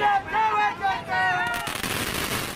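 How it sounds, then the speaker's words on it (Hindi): Rapid crackling bursts of firecrackers popping in a dense, noisy volley at a political workers' celebration in Chamoli, India, following a stretch of excited voices and shouting. "चमोली में भी कुछ ऐसी ही तस्वीरें देखने को मिली, जहां उत्साहित कार्यकर्ताओं ने पटाखे फोड़े।"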